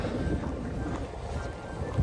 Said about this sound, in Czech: je fakt silný vítr, takže doufám, že to neslyšíte, ten vítr